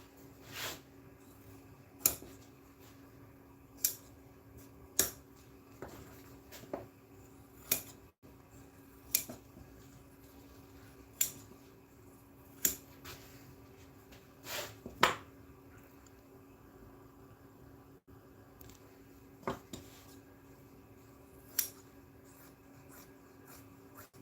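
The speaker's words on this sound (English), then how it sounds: "When you see me cutting like this, you know that my scissors is dull." Quiet, repeated snips of dull scissors cutting seat material, sharp clicks spaced irregularly over a low steady hum, with no talking.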